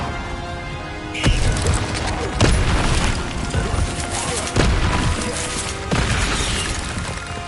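Incendio fire spell being cast in the Hogwarts Legacy video game: several loud booming bursts land at intervals over a steady game soundscape, each hit sharp and heavy like a small explosion.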